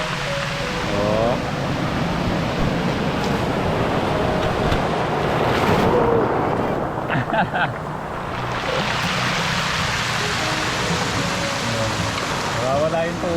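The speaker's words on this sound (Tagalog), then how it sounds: "Nawawala yung tubig oh, tapos ito yung alon." Steady broadband roar of sea waves washing in and breaking, with gusty wind noise over the surf throughout.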